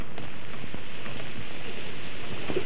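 Rain falls steadily as a dense, even hiss with scattered drops, continuous and fairly close, with no voices over it.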